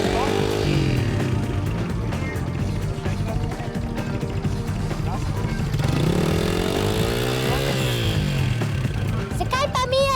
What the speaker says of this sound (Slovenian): ko bo dala majčken gasa, bo motor že speljal